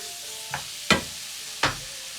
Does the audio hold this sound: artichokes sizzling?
yes